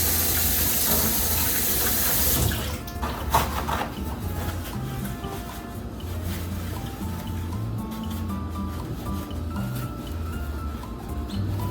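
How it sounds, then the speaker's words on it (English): A pot lid is washed under a running tap, with a loud hiss of water at first, then steadier flowing water and faint clinks of the lid. "I went ahead and quickly washed the lid"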